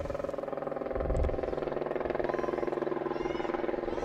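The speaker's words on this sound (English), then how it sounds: "WGN helicopter going overhead." WGN news helicopter passing overhead at a girls' lacrosse game, a steady low rotor throb and engine drone running throughout at moderate distance, swelling slightly near the one-second mark.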